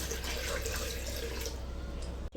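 Water poured steadily into a Thermomix TM21 bowl holding barley and winter melon, a continuous close splashing and gurgling stream that cuts off abruptly at the end.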